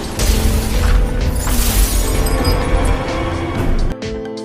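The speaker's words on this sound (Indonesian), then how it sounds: "secara tiba-tiba terjadi ledakan elektronik" A loud, dense burst of crackling, shattering noise from an electronic explosion in a film roars continuously for several seconds, then cuts off abruptly into a quieter hum.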